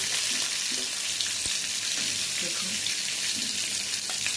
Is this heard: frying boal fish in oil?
yes